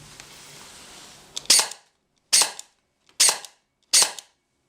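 An airsoft gun fitted with a RetroArms CNC gearbox fires four sharp, separate semi-automatic shots about a second apart, each a crisp close crack that snaps off into silence.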